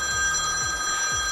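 A telephone rings with a warbling electronic trill, two or three bursts in quick succession, clear and fairly loud.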